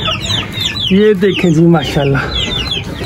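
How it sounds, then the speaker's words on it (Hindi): An Aseel hen clucks repeatedly and loudly close by just after laying an egg, a run of rising, squawking calls in a farm setting, while someone speaks briefly over the start. "एक मुर्गी जो है वो अंदर बैठी हुई है, इसने अभी अभी जो है वो अंडा दिया"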